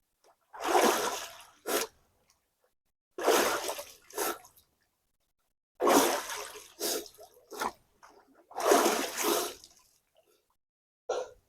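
A person plunging again and again into a pond on a winter night, each dunk a loud burst of splashing water, with four separate splashes coming at steady intervals and short quiet gaps between them.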